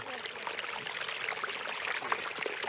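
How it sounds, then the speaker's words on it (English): Running water pours through a dam waterway in Ghana or Uganda, a dense, continuous hissing rush of moderate loudness with no voices. "Who knew the sound of running water could be so fulfilling?"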